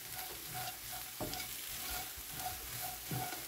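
Anchovies stir-fried with pumpkin seeds in a pan give a steady broadband sizzle, with a spatula scraping and clacking against the metal every second or so, close and fairly loud, with no talking.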